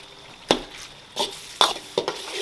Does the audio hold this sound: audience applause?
no